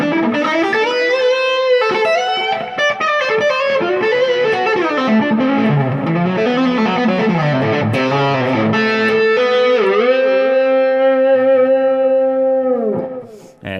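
Electric guitar played through a Boss Katana amp's crunch channel with a virtual SD1 boost in front, a loud, mildly distorted melodic line of sustained notes and bends, ending on a long ringing chord that fades out.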